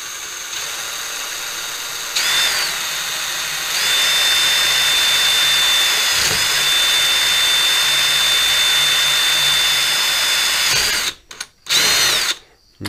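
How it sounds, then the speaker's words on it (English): A power drill on a small lathe whines steadily with a high tonal hum for several seconds, close and loud, then cuts out in short bursts. "And I can drill my first hole."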